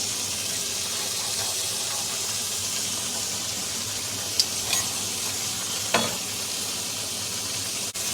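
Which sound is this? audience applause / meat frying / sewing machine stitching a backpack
meat frying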